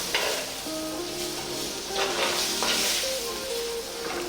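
Tomatoes and slit green chillies cook in a pan for a Sri Lankan tuna fish curry, with a steady sizzle and intermittent scraping stirs, moderately loud and close.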